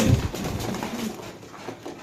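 A female local pigeon gives a brief, low, close coo at the start, followed by softer murmuring among other birds in a pigeon market.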